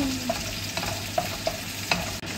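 Red onion goes into a pan of golden-browned garlic and sizzles steadily, with a continuous loud frying hiss broken by a few light stirring taps and clicks, close by and without voices.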